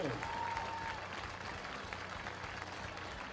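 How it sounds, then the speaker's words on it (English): Crowd applause for a Hall of Fame inductee at a Colerain High School football game, steady and fairly faint across a large outdoor crowd, with a brief whistle near the start. "How about a nice round of applause for Kristen Sander-Wolfold"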